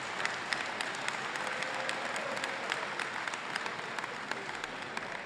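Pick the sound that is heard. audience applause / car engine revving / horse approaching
audience applause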